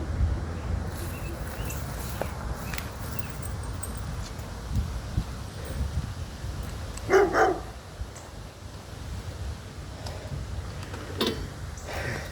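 A dog barks a couple of times at a distance, faint against outdoor wind and rustling, with long quiet gaps between.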